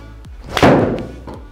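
A single solid thud as a 7-iron strikes a golf ball on a course, close and loud, with the impact's ring fading over about a second.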